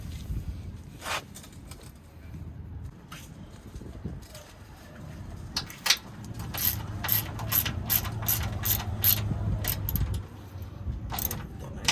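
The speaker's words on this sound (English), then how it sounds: "It requires a 13 deep socket." A ratchet with a 13 mm deep socket tightens a nylock nut during a Bilstein 8100 shock install on a 5th Gen 4Runner. Rapid bursts of close, crisp clicking come in quick strokes, with handling noise between them.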